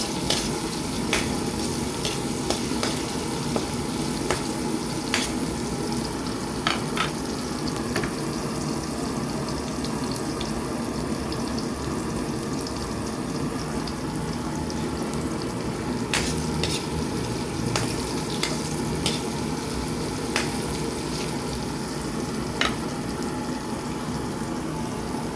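Onions fry in a pan with a constant close sizzle, while scattered scraping clicks of a utensil stirring them punctuate the hiss throughout.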